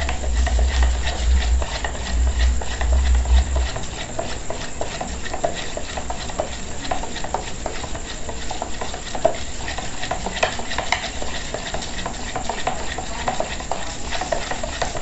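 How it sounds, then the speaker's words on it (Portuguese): Homemade papaya-leaf soap mixture being beaten hard in a container, a continuous dense churning and slapping that runs steadily throughout, loud and close with a low rumble early on. "O segredo é bater, porque você batendo o seu sabão bastante"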